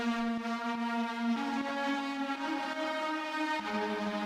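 Lead synth line from an electronic song mix, a bright buzzy tone rich in harmonics holding steady notes that step up and down, loud and alone with no talking.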